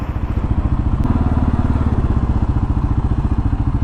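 A 2022 Kawasaki KLR 650 single-cylinder engine chugs at low revs in a parking lot as the clutch is let out, a loud, close, evenly pulsing thump with a brief click early on.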